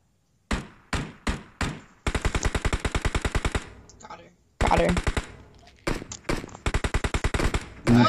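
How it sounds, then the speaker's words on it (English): Gunfire in the video game PUBG Mobile, with single loud shots followed by rapid automatic bursts in quick rhythmic strings, a short pause, then more bursts and single shots. "Oh, I'm getting shot. I'm getting shot."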